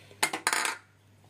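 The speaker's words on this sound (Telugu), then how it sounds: "ఇప్పుడు మనం పంచదార పాకం కోసం గిన్నె పెట్టుకున్నాను. దీంట్లో ఒక కప్పు షుగర్ వేస్తున్నాను." A cup of sugar pours into a cooking pot for syrup, a brief gritty rattle in two quick bursts lasting about half a second, close and fairly loud, then quiet.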